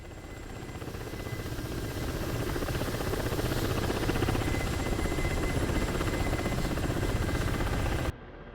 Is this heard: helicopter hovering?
yes